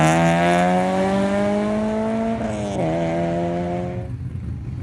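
A Honda Civic Si races up the Weatherly Hillclimb course, its engine loud and close as it revs steadily upward through the gears, pitch climbing, then dipping at a shift before pulling again and fading away near the end.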